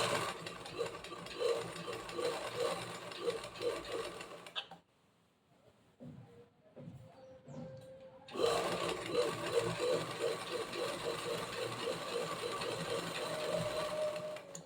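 A sewing machine stitches a zigzag fall onto a saree with a steady, fast mechanical whir. It stops briefly for a few soft handling noises, then starts again at the same close, even running pace, and no one speaks.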